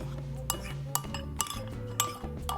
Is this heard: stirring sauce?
yes